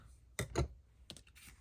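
Scissors cutting a paper border for a junk journal, a few quick close snips in two short clusters, crisp and light against a quiet room.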